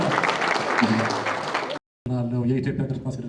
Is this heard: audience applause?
yes